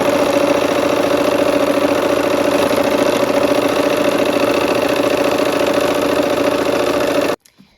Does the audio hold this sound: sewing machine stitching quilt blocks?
yes